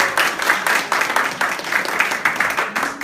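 An audience at a cooperative forum applauds, a sustained rippling patter of many hands clapping at moderate loudness with a faint voice underneath.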